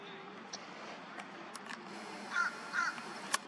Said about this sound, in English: There's an osprey, there's a crow at the nest.